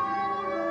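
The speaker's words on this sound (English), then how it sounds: "I'll just run my sirens and then nobody will know what's happening." A police car siren in the LA Noire video game rings out as a steady, loud, sustained tone, heard alone for under a second.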